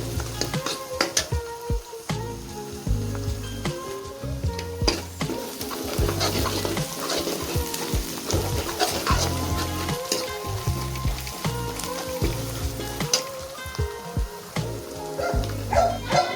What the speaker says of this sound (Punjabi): ਪਿਆਜ਼ ਵੀ ਜਿਹੜੇ ਚੰਗੀ ਤਰ੍ਹਾਂ ਭੁੰਨਣੇ ਆ ਜੀ